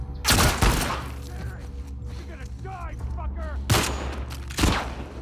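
Gunfire in The Last of Us Part 2 gameplay: a loud burst of several shots near the start, a quieter stretch with chirping game sounds, then two more sharp single shots late, over a steady low background hum.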